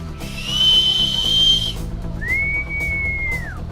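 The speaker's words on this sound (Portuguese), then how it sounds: "No meio das quixabeiras ouviu-se um apito." Two loud, shrill whistle blasts close by: a long steady one, then a brief pause and a second long blast that bends downward at the end.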